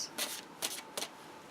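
A tarot deck is shuffled by hand in three quick riffling bursts, each a soft papery flutter of cards, close and quiet, separated by short pauses with no voices.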